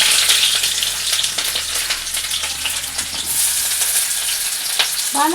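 Chow mein with carrot, onion, potato and chili fries in a pan with a loud, continuous close sizzle, with occasional stirring scrapes and a brief knock near the end.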